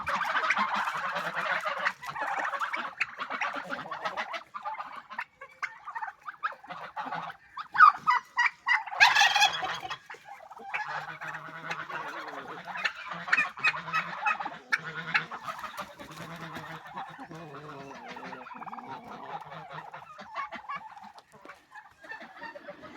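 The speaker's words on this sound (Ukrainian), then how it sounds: "Індюк. Красунчик." A noisy flock of poultry calls continuously, with clucking, honking and bursts of turkey gobbling, loud and close throughout.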